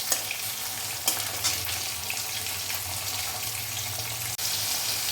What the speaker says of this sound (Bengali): এই যে টমেটোগুলো আমি ভেজে নিচ্ছি একটু